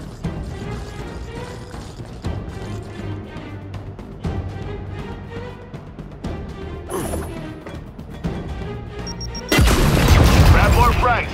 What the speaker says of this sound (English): keep your head down and blind toss the grenade